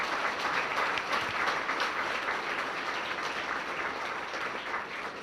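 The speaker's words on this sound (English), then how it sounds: "join me in a round of applause to show our appreciation for the service" Diners at a Grove City chamber of commerce dinner give a sustained round of applause, a dense, even patter of many hands at moderate distance that slowly fades toward the end.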